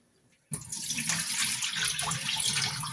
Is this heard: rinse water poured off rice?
yes